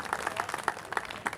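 Audience at a film event clapping for the novelist behind the film, a moderately quiet patter of many hands with uneven rhythmic peaks and no voices.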